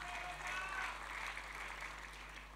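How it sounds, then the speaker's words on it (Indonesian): Congregation applauding during a church worship service, a soft, steady wash of clapping held at a distance and fairly faint throughout. "Berikan tepuk tangan buat Tuhan."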